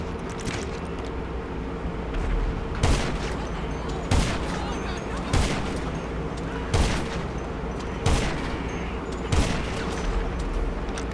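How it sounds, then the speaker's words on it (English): Gunfire in GTA Online, a series of about eight loud sharp shots spaced roughly a second apart over steady background engine rumble. "That boy be shooting his whole arsenal, gang."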